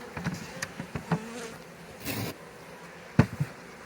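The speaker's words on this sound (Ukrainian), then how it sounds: "Так, наступний рій. Цей вже вроді більший." Honeybees from a captured swarm buzz around a hive box during transfer from a trap, with intermittent close buzzing passes and wingbeat surges over a low background hum.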